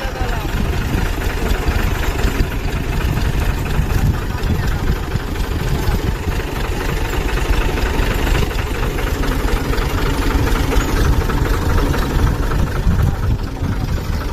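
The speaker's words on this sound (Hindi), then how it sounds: "आप अगर इस बार का ट्रैक्टर की ड्राइविंग के मज़े ले रहे हैं जी।" A tractor engine runs continuously during wheat harvesting, a loud, steady, rough mechanical drone with knocking vibration and no letup throughout.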